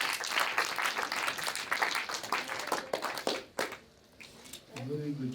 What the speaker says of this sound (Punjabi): ਜਨਾਬ ਬਹੁਤ ਸਾਰੀਆਂ ਤਾੜੀਆਂ ਅਦਲ ਬਿਨ ਅਸਲੋ।